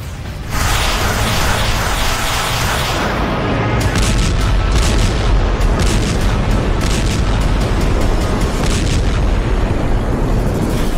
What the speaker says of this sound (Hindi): रूस ने कीव पर पिछले 72 घंटों से अंधाधुंध हवाई हमले किए हैं